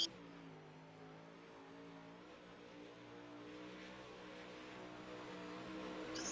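A UMP modified race car on the dirt track at Charlotte drones at a distance, its engine tone rising and sustaining as it rounds the oval, faint and steady with no voices.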